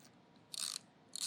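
A socket wrench tightens a 13mm bolt with a washer, giving two short, quiet bursts of ratcheting clicks separated by a brief pause.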